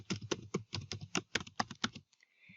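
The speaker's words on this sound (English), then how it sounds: "and then type in the password" Computer keyboard being typed on in quick, light keystrokes while entering a password, a close burst of about two seconds of clicks that then stops, followed by faint quiet.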